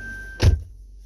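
A single solid thunk as the door of a 2012 Toyota Venza swings shut, close and fairly loud, followed by a quiet cabin hum.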